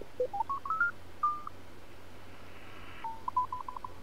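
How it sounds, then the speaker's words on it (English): Morse code CW signals on an amateur radio receiver as the dial is tuned, with short, clear beeping tones that shift in pitch, pause, then resume in quick keyed bursts. "And then here's probably more CW."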